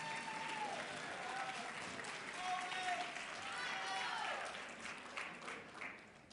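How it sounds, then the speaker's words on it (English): Steady applause from the Ohio delegation at a networking luncheon, moderately distant and sustained for several seconds, with voices murmuring underneath. "If the Ohio delegation wants to applaud."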